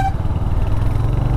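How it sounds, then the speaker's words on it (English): Royal Enfield Hunter 350 motorcycle exhaust, a deep, throbbing single-cylinder thump held loud and close and steady, with no voices over it. "The exhaust note is so engaging on this thing."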